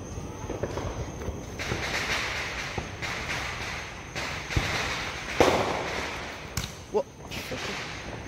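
Distant Independence Day fireworks popping and cracking irregularly over a steady outdoor street rumble, with several sharper bangs scattered throughout.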